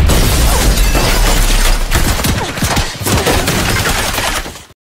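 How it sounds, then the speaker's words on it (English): Rapid bursts of gunfire from several assassins crack and pop as they shoot through windows, with shattering glass, dense and loud for several seconds before cutting off abruptly. "several assassins shoot her through the windows"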